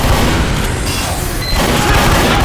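Dense, continuous gunfire and explosive booms from a Team Fortress 2 match, loud and unbroken over the whole stretch with no clear gaps between shots.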